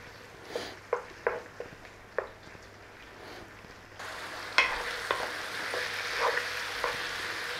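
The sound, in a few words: chicken liver frying in a pan over high flame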